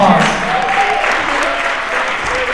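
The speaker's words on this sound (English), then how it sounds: "Let's give them all a round of applause" Applause from the audience at a school Thanksgiving assembly, a steady dense wash of clapping throughout with faint voices mixed in.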